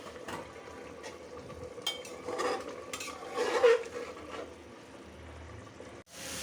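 Mixed vegetables with turmeric frying in oil for a vegetable khichuri, a soft, close, continuous sizzle with faint stirring and scraping, quiet overall and with no talking.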